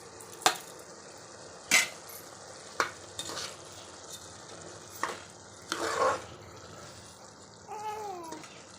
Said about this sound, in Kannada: ಮಸಾಲೆ ಮತ್ತು ಅಕ್ಕಿ ಎರಡನ್ನೂ ಮಿಕ್ಸ್ ಮಾಡಿ ಸ್ವಲ್ಪ ಅದನ್ನು ಫ್ರೈ ಮಾಡ್ಕೊಬೇಕು